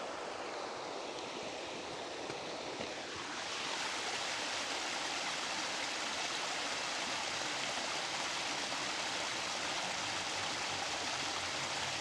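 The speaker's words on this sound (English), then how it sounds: "so just cascades downstream, and then it'll flow into another pond, and then that goes to the bigger waterfall" A garden stream rushes and tumbles in a continuous, broad hiss as it cascades toward a waterfall, swelling a little louder partway through and then holding steady.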